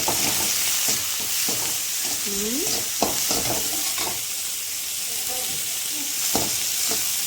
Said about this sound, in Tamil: சின்ன வெங்காயம் சின்ன உள்ளி அதை இட்டாச்சு அதை வசக்கணும்